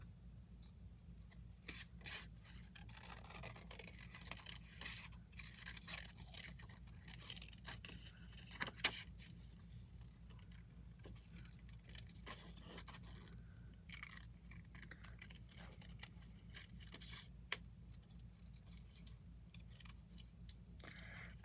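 Scissors fussy cutting paper scraps for a zine, with faint, close snipping and rustling scrapes scattered irregularly over a quiet hum.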